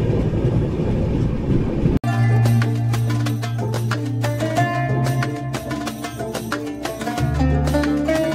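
A passenger train stands at a small station crossing in Assam: a sharp knock gives way to a steady low engine hum and idling machinery drone, with faint clicks and rattles continuing throughout.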